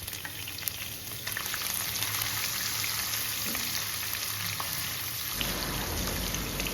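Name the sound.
frying anchovies in a pan with a little oil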